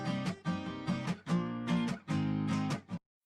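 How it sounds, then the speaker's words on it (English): A dry, unprocessed acoustic guitar track strums in rhythmic chords with clear, close attacks and ringing harmonics, then stops abruptly with silence at the end. "the dry acoustic sounds like this"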